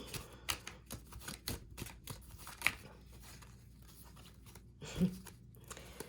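Tarot cards being shuffled up close in quick bursts of soft riffling and flicking, with a sharper slap near the end; no speech.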